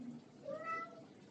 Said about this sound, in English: This is the cat again